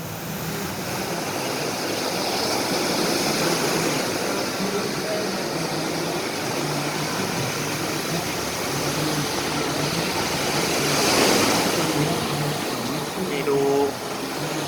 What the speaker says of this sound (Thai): ดูความแรงของคลื่นนะ